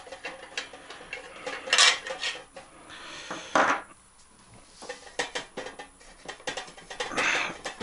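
A metal lid being unscrewed from a glass jar of home-canned stewed meat gives close, irregular scraping and rubbing rasps in several bursts, with quieter pauses between turns.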